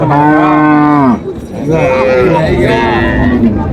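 At a village cattle market in Dinajpur selling dairy cows and calves, one cow gives a loud, close moo, and then a second, longer low moo follows, with voices faintly in the background.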